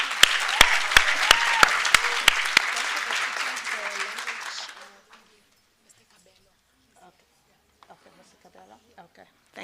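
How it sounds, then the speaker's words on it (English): Audience applause at a university engineering faculty event, with loud claps and sharp rhythmic clap peaks that fade out abruptly about halfway through, followed by quiet room sounds and faint talk. "Let's just give her a round of applause."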